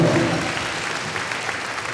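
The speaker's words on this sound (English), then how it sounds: "Please give him a round of applause." Audience applause at a school band event honoring a music teacher, a steady wash of clapping that starts fuller and tapers slightly across two seconds, with no voices over it.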